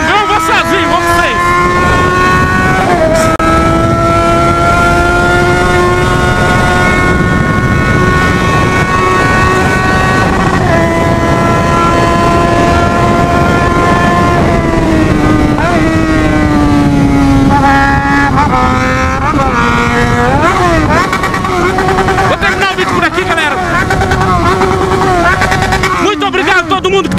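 A Yamaha XJ6 motorcycle accelerates hard in a street run alongside a Camaro, the engine note loud and close, climbing and dropping through gear changes with a steady roar.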